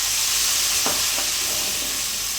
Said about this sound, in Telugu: ఈ కొబ్బరి కూడా పచ్చి వాసన పోయే వరకు బాగా ఫ్రై చేసుకోవాలి